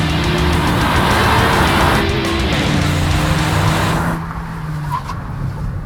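A 2017 Honda Civic Hatchback Sport drives along a mountain back road, its engine and tyre roar loud and continuous, easing slightly as the car shifts or changes pace, with no talking.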